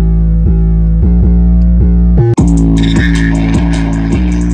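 A distorted, buzzy synth tone pulses in a steady rhythm, cuts out briefly, then returns harsher and grittier with added fizzy overtones.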